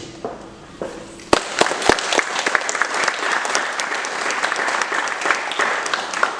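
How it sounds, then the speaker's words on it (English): An audience bursts into applause after a brief moment of speech, and the clapping stays dense and steady to the end. "you applauded before I could even say anything"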